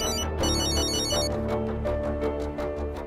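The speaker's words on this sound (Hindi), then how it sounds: "वृंदा फोन कर रही है" A mobile phone rings with an incoming call in a Hindi TV drama, playing a loud, continuous melodic ringtone that repeats its bright tune for the whole stretch with no talking.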